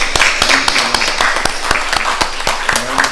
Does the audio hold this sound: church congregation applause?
yes